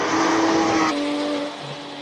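A race car at a Cape Town hillclimb roars past close by with a loud, sustained engine note that drops in pitch and fades slightly over two seconds.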